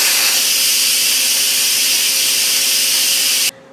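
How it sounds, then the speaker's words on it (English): An Instant Pot's venting knob is switched from sealing to venting, releasing a loud, steady, close hiss of steam that holds at full strength for about three and a half seconds before cutting off abruptly. "On the back of the unit, I'm going to push the knob from sealing to venting."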